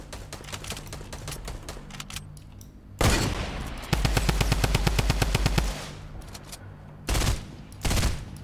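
Fortnite gunfire: a sparse crackle of distant shots, then a loud sustained automatic burst with rapid evenly spaced cracks, followed by two more short loud volleys.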